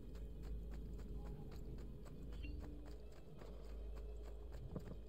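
Horse hooves clip-clop steadily at a gallop in Assassin's Creed II on PS5, a continuous rhythmic patter of strikes over a low rumbling game ambience, with no talk.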